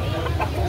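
A chicken at a market clucks briefly, a short burst of low throaty sounds amid busy background noise.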